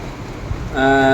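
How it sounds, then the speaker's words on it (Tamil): Heavy rain pours down at Kalavasal in Madurai as a steady, dense wash of noise, joined partway through by a sustained tonal hum that holds to the end. "எவ்வளோ கும் இருட்டாக இருக்குது மழை நொறுக்கி இருக்குது"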